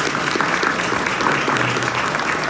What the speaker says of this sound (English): can we get a round of applause for these guys?